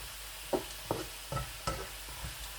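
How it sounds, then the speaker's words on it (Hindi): Taro root (arvi) frying in a pan, a soft continuous sizzle broken by five or six distinct stirring scrapes at regular intervals, close and clear. "अरवी जो है वो हल्की सी ब्राउन हो चुकी है। इस हद तक ही हमने करना है, ज़्यादा इसको फ्राई नहीं करना।"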